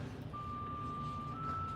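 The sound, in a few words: alarm going off, beeping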